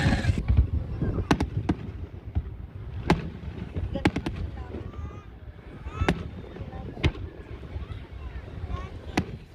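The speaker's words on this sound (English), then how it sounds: "Tonight we had fireworks for the city of Corpus Christi Big Bang 4th of July event celebration." A Corpus Christi Big Bang 4th of July fireworks show, with sharp distant bangs popping at irregular intervals under a steady rumble of wind and a voice talking.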